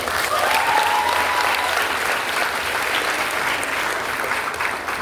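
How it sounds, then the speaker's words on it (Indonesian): An audience in a university lecture hall applauds steadily after a public lecture, loud and sustained clapping from a large crowd that carries on for several seconds. "Aplaus untuk beliau."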